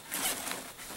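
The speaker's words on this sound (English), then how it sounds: "It's got two zippers again." A zipper is drawn along a large backpack compartment, one quick close rasping pull lasting about a second.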